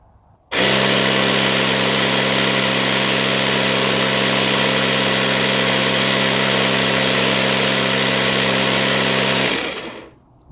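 A Ryobi 18V cordless inflator runs loud and steady for about nine seconds with a strong motor hum, then cuts off abruptly, with no talking.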